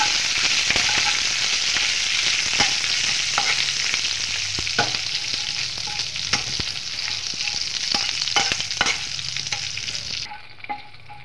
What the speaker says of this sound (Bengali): অল্প একটু নেড়ে চেড়ে ভাজা করে নেব।